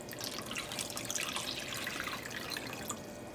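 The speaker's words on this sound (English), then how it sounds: "I'm gonna add sugar and water." Water streams steadily into a non-stick pan with sugar on medium-high heat, a continuous splashing, trickling pour with no voices.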